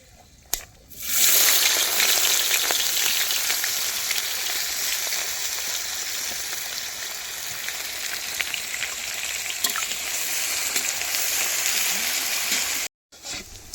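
Onions sizzle steadily in a pan over hot oil already seasoned with cinnamon, a loud broadband frying hiss that begins abruptly after a quiet second and holds until a brief cutoff near the end.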